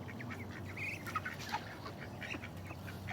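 Ducks raised for sale at a roadside spot along a highway give scattered nasal quacks and calls over a steady low background rumble, moderately near and fairly faint.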